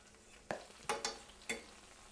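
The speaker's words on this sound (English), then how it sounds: "in the same frying pan, so we get all the nice bits, I put one little shallot, okay? And we're gonna brown that a little bit" One small shallot browning in a frying pan with meat drippings, a quiet sizzle broken by four sharp utensil scrapes and stirs against the pan, close and soft.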